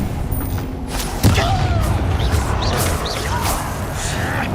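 Fiery Confringo spell blast in Hogwarts Legacy combat, with one heavy boom early on followed by continuing low rumbling and scattered magical effects, while a voice shouts spell names over the action.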